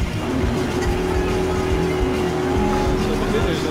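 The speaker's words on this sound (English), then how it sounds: "here comes a car on our left" A car approaches in the Battlefield Hardline video game on a large Everglades conquest map, its engine a steady loud drone with tire noise over busy game ambience, under talk.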